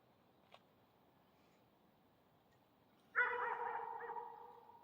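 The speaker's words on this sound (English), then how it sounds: "And dogs in the background." A dog barks once, a sharp yelp-like sound at moderate distance after a quiet outdoor stretch with a faint brief sound earlier, the bark trailing off slowly.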